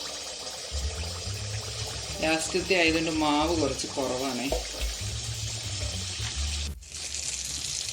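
Traditional Kerala neyyappam batter fries in hot oil as oil is spooned over it, a continuous close sizzle running under a person talking.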